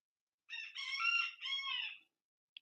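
A rooster crows once in a full, drawn-out call in an otherwise quiet setting, followed by a brief faint tick.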